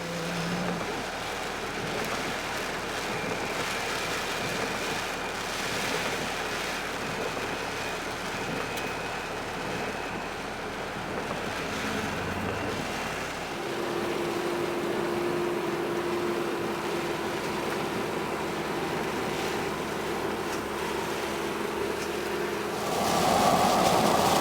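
Floodwater in a swollen creek rushes steadily beneath heavy rain near a bridge at Lismore, a dense, continuous roar that holds throughout and swells slightly toward the end.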